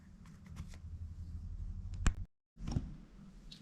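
Dreamkeeper's Tarot cards are handled and sorted by hand, with soft papery slides and taps, a brief pause, then more shuffling close by and at moderate volume.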